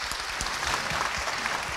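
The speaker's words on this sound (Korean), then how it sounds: "선생님께 다시 한번 박수 부탁드립니다." Applause from an audience for a veteran Korean pansori master drummer (gosu) at a traditional music event, a dense, steady wash of clapping that is fairly loud and continuous throughout.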